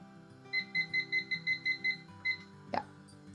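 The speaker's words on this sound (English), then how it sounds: "so let's put a timer" A kitchen timer beeps in a quick run of evenly spaced electronic tones as it is set, followed by a short pause, a couple more beeps and a sharp click.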